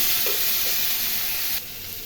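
Onion, garlic, ginger, green chili and a hilsa fish head hiss and crackle loudly in hot oil in a pan, a dense steady sizzle with a few stirring scrapes, easing slightly near the end.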